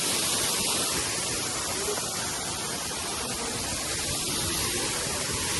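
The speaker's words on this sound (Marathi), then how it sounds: "खूप डेंजर पाऊस चालू आहे आता इथे" Heavy monsoon rain pours down steadily on the Harishchandragad trek, a dense, loud, unbroken wash with no pauses.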